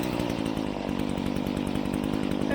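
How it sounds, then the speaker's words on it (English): Petrol chainsaw running steadily at close range, a loud continuous buzzing drone with a fast regular engine pulse throughout; the engine is faulty and prone to stalling, though it does not cut out here. "It idles alright, it seems to idle okay, but as soon as you go on the throttle, or just don't do anything at all, it conks out."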